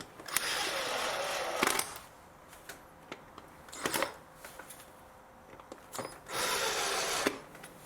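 Screws being driven into a plastic air filter housing on a 2012 Mercedes B180 W246, a close ratcheting tool whirring in several short bursts separated by quiet clicks and handling noise.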